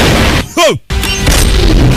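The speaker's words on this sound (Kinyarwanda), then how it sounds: "arabanza arashisha amasasu" A loud, dense burst of gunfire in a film with a sharp cut to silence, then a continuous roar of shooting and noise.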